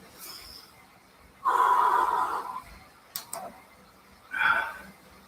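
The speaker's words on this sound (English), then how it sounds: "Try to take some deep breaths." Deep breaths taken during an indoor exercise interval: two strong, close exhales separated by quieter gaps, with a brief click in between and no speech.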